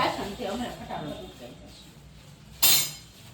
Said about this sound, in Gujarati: મેડમજી વાસણ ઉટકે છે